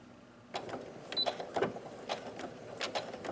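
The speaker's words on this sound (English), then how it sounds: "Next, we're going to sew that front curved edge with a 1/4 inch seam allowance." A sewing machine stitches the curved front edge of a fabric face mask at a quarter-inch seam, running in quiet, quick mechanical bursts with light rhythmic clicking, close and soft.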